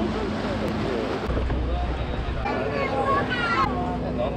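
A boat engine drones steadily with water wash and wind buffeting the microphone, while a crowd of passengers chatters nearby in Venice.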